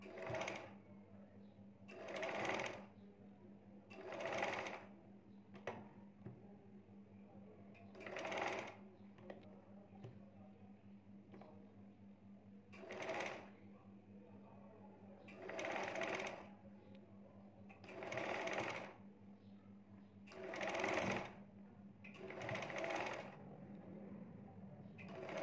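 A sewing machine stitches lace onto the armhole of a baby girl's shirt in repeated short bursts, stopping and starting about ten times against a steady low hum.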